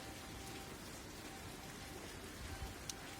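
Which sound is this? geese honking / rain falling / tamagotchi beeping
rain falling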